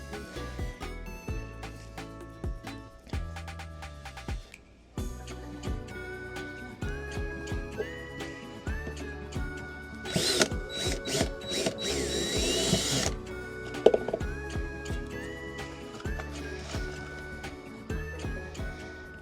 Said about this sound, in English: So I'm going to finish drilling all of these